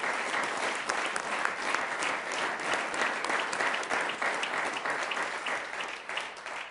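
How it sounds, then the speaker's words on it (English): A city council meeting audience in Sioux Falls gives a sustained round of applause, many hands clapping steadily and evenly for several seconds, with no talking over it. "let's give him a round of applause while he comes up"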